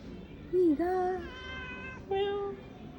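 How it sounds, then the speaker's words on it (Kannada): Two cats facing off yowl at each other, with a couple of drawn-out, wavering moans at moderate volume over a faint background hum. "ಎರಡು ಬೆಕ್ಕುಗಳು ಮುಖಾಮುಖಿಯಾಗಿದೆ"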